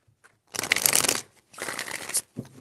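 Tarot cards shuffled by hand in two quick bursts of riffling, crisp and close, followed by a short tap.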